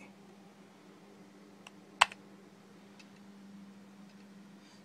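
Keys are pressed on a BL-328 microcomputer keyboard in a quiet room, sparse and soft, with one sharp loud click in the middle and a faint steady hum underneath.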